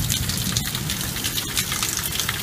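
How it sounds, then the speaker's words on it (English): Steady rain pours down during a thunderstorm at night, a dense broadband wash of falling water with no distinct thunderclap standing out. "Boy, it's raining and thundering out there."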